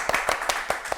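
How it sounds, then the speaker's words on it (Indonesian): A few people clap at a casual Indonesian lifestyle chat, sparse claps falling in a quick irregular rhythm, fairly close and light rather than a full crowd. "Tepuk tangan dong."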